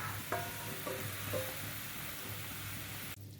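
Koftas dropped into boiling gravy set off a steady close sizzle and bubbling, with a few brief splashy accents early on and no voices.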